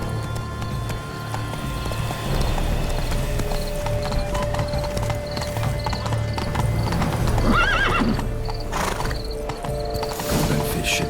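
A horse galloping in The Witcher 3, rhythmic hoofbeats close and continuous under game ambience, with a neigh and brief whinnying partway through.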